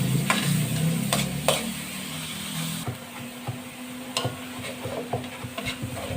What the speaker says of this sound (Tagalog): Medyo golden brown lang natin kunti yung bawang sa sibuyas para lumabas yung aroma niya.